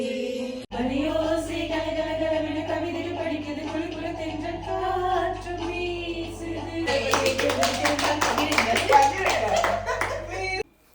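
A group clapping in rhythm at the end of a sung song among friends on a Sri Lanka holiday, with the claps coming in loud and close under the singing voices.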